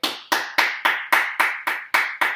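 One person claps a fast, even beat with bare hands, nine sharp crisp claps at a steady tempo, close and alone with no talking.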